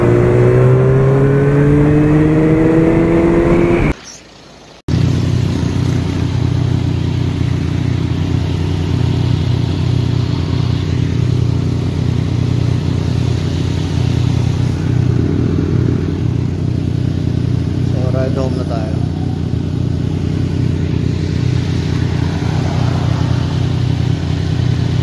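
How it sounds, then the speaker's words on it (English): A 2015 Suzuki GSR750 motorcycle on a holiday group ride to Tagaytay roars loudly and continuously at close range, its engine climbing through revs before a brief dropout, then a sustained steady drone with wind noise. "GSR750 Suzuki. 2015 model."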